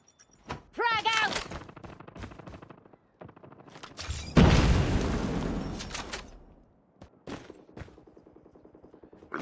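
A frag grenade bursts in Call of Duty Mobile multiplayer as a loud, broad blast that rumbles away over a couple of seconds, amid scattered gunfire and game voice callouts.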